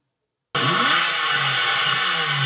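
A Porsche engine cranks and fires after half a second of silence, settling into a steady, loud, even running note that continues alone without voices.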